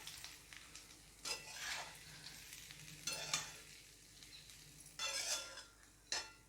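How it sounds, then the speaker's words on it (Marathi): Lati vadi pieces being stirred through a hot tempering in a pan, with a soft steady sizzle broken by several louder scraping stirs at irregular intervals, close up and with no talking. "ही फोडणी आहे या पूर्ण वड्यांना लागली पाहिजे असं व्यवस्थित हे मिक्स करून घ्यायचं आहे"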